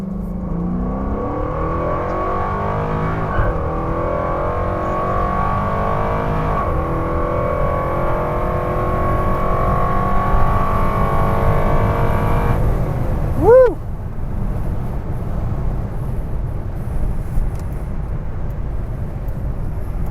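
A nitrous-injected Cadillac XLR accelerates hard onto a highway on-ramp, its engine pitch climbing steadily through a long pull before a gear change, loud and close from inside the car.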